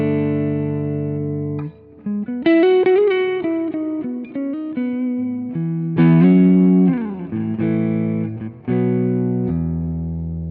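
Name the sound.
electric guitar through Deluxe Reverb amp capture, Quad Cortex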